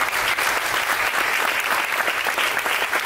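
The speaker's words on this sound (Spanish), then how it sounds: "le demos un fuerte aplauso a todas las personas que se han parado" An audience at a business seminar gives loud, sustained applause, dense continuous clapping from many hands filling the room with no pause.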